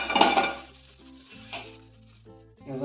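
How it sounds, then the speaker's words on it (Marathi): A bottle gourd (dudhi bhopla) thalipeeth is lifted from the pan onto a plate. A brief scrape and clatter come at the start and again near the middle, over quiet tonal background sound. "आता आपण याला एका ताटामध्ये प्लेटमध्ये काढून घेऊ."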